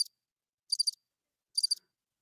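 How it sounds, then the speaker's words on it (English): Crickets chirp in three isolated, evenly spaced bursts of rapid trills against total silence, crisp and clean like a stock sound effect. "Just crickets."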